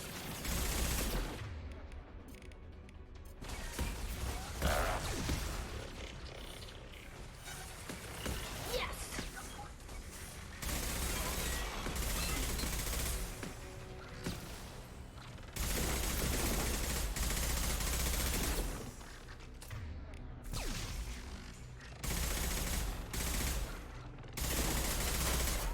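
A hacked turret firing in Mass Effect 2 Legendary Edition, with sustained bursts of rapid automatic gunfire coming and going across a combat scene, loud and dense, amid other battle noise.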